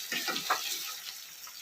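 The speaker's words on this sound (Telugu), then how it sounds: "ముందుగా మనం తిరగమాత వేస్తున్నాం" Whole spices tempering in hot oil in a pan for a South Indian dish, giving a soft, steady crackle and hiss with a few brief pops near the start, fairly quiet and with no voices.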